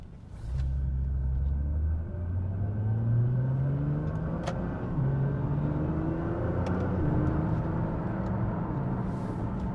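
A 2016 Nissan GT-R engine drones under way, loud and close, its pitch climbing through gear changes and accelerations in a steady rising rumble on a road drive.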